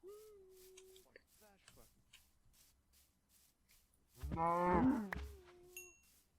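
Cows moo in a savanna within a video game, one long loud bellow standing out near the end among fainter lowing calls, with quiet voices murmuring around them.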